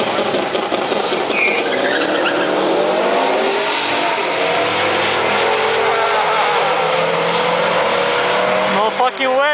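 A Dodge SRT launching hard at a race track, its engine roaring loudly and climbing in pitch as it pulls away, with excited voices heard around it.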